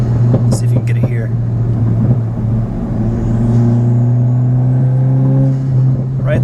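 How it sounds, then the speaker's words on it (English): A VW MK8 GTI with a Milltek race exhaust runs with a steady low drone and rising harmonic bands as the turbo spools up, loud and close, with a brief airy whoosh near the start. "Right there between 3 and 4 is where you can hear it too. Turbo spool up."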